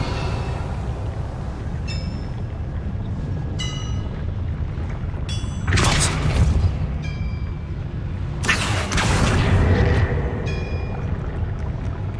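A Revelio spell cast in Hogwarts Legacy, a bright shimmering magical burst that flares up over a steady low ambient rumble, with a second similar swell a few seconds later and chiming tones scattered throughout.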